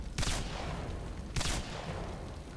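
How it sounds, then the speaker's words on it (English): Video game gunfire, heard as two sharp, loud shots about a second apart over a steady rushing background. "let me shoot from here."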